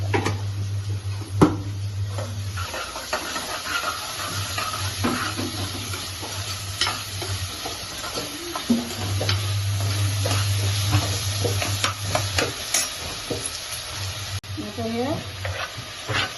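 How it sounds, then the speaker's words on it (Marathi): Onions with a pinch of salt fry in a pan with a constant close sizzle, punctuated by scraping stirs and occasional utensil clinks, and a low hum running through most of the stretch; no speech. "कांदा आपण आता लाल करायला घेतला आपला अर्धा कांदा खाली करण्यासाठी थोडंसं मीठ टाकायचं"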